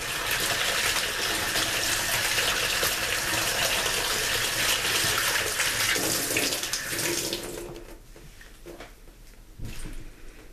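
Water gushes steadily from a tap into a bowl meant for soaking onion rings, a loud continuous pour that cuts off near the end, followed by a few faint clinks and quiet handling.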